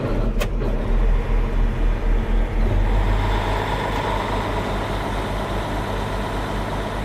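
A large farm tractor pulling a Cougar mower unit revs up as it is given gas, a loud, close, continuous engine roar with a pulsing low rumble that rises slightly partway through.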